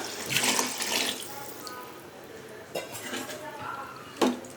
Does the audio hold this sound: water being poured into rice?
yes